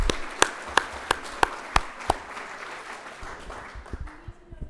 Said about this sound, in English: Let's give him one more round of applause for spending his lunch and afternoon with us.